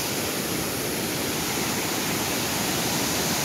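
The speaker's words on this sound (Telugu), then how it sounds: "ఇది వాటర్ ఫాల్ అనమాట, గండహతి వాటర్ ఫాల్స్" Gandahathi waterfall in Gajapathi district, Odisha, pours with a constant, broad roar of falling water, loud and unbroken throughout.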